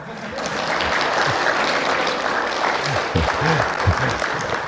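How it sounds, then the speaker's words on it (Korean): Applause from an audience at a church lecture on mission, a dense sustained clapping crowd with a low voice murmuring underneath partway through. "그러면 우리 박수로 시작하시겠습니다"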